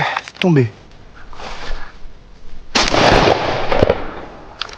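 Shotgun blasts loaded with Solognac cartridges during wood pigeon hunting in a Tarn forest: a sharp nearby report early, then a louder burst with rumbling decay around the middle, with people talking around them.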